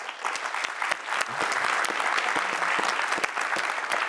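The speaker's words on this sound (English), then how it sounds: "Mel, we applaud you" A studio audience breaks into applause for the founder of a street shower charity, dense overlapping claps with sharp individual hand strikes poking through, steady and fairly close for the whole stretch.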